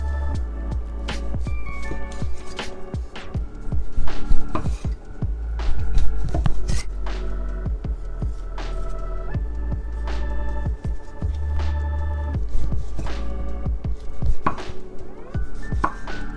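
A knife cutting tomatoes on a board for a beef and tomato stir fry, a steady run of close, crisp chopping strikes over a low, constant hum.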